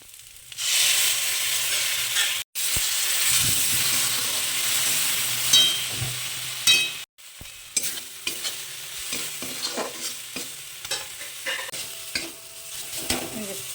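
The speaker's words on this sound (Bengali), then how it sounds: "পেঁয়াজটা এবার ভাজা হয়ে গেছে, তো এবার আমি পোস্তটা দিয়ে দেবো।" Poppy seeds and fried onions in a pan sizzle while a spoon stirs and scrapes them. Close scraping strokes repeat, growing choppy and rhythmic after a brief silent break.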